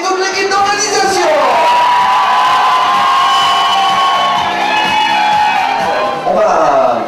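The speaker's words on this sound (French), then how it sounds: "un grand applaudissement pour les filles et toute l'équipe d'organisation" An audience at a festive evening party cheers and whoops for the organizing staff in a long, loud crowd roar, with some shouting on top.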